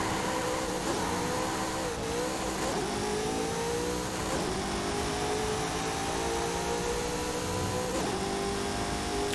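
Brabham BT62 racing on a motorsport track in Forza Horizon 5, its engine droning loud and steady, rising and falling with repeated revs and gear changes, continuous with no talk.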